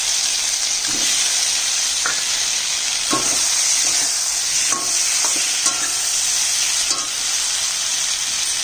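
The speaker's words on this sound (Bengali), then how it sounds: "আলু ভাজাটা দিয়ে দিচ্ছি" Fried potatoes tossed into a pan of frying ridge gourd and stirred, a steady sizzle underneath sharp scraping strokes of the spatula at irregular intervals, close by with no talking.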